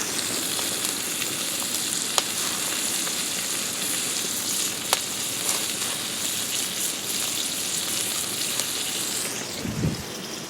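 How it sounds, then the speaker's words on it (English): Food sizzles while cooking over an open flame on an outdoor fire, a steady crackling, frying hiss with occasional sharp pops, heard close and continuous, with a brief low thump near the end. "Listen to them sizzle."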